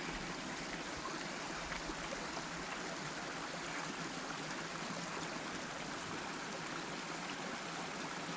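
Steady running water swirls and sloshes while dirt is panned for gold in a small hand-dug hole in a backyard, a continuous close wash with no talking.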